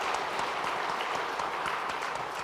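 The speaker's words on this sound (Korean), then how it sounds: "저희가 박수로 함께 환영하도록 하겠습니다" A church congregation applauds together to welcome a newcomer during Sunday worship, a steady, fairly faint wash of many hands clapping with no break, no voices rising above it.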